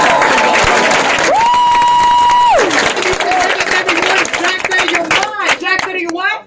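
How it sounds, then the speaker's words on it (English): An audience bursts into a loud round of applause in a crowded training-event hall, dense clapping with some cheering throughout, a steady tone briefly rising over it, and voices mixing in toward the end. "give yourselves a round of applause."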